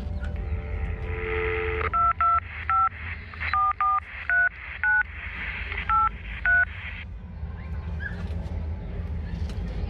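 Telephone keypad tones are dialled inside a phone box: about nine short, clear beeps in an uneven sequence over a low background hum, with faint voices nearby.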